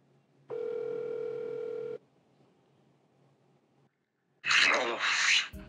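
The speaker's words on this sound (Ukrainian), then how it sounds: "Ми спробуємо з її номеру набрати." A steady telephone dial tone hums for about a second and a half while a television studio host calls a guest, followed by a pause and then a louder burst of line noise or voice.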